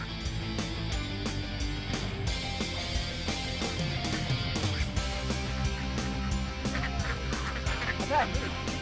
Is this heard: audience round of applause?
no